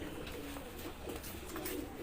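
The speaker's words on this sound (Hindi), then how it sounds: "ये दोनों कबूतर देखे हम" Soft pigeon coos repeat a few times against a busy background murmur, close by and low.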